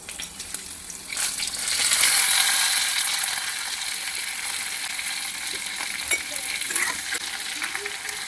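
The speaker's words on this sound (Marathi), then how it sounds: "तेल तापलेलं आहे. आता आपण त्यात एक एक वांगी सोडूया." Whole brinjals (eggplants) drop one by one into about three ladles of hot oil in a kadai. The frying hiss swells and then holds steady and close, with small pops and clicks and no talking.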